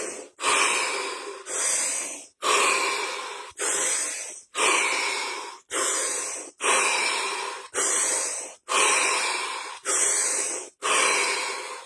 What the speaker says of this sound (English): 7 deep breaths.